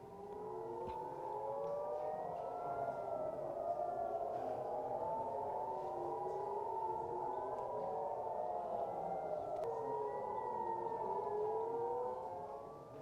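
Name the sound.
civil defense sirens sounding in Tel Aviv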